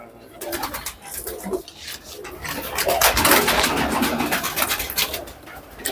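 Pigeons coo and flutter amid a busy clatter of wings and rustling, with voices talking faintly in the background.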